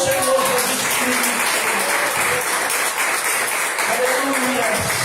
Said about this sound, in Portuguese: aplauda o Senhor Jesus Cristo